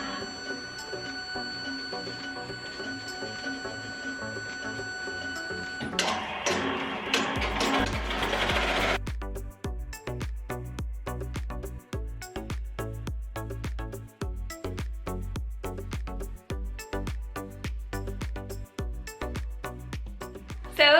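An embroidery machine stitches a dense fill-stitch monogram design into a sweatshirt, a fast, steady rhythmic clatter of needle strikes with a hum underneath, continuous and close, with no talking.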